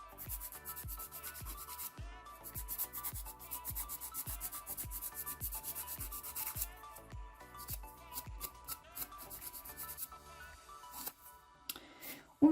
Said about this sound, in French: On continue à limer un tout petit peu.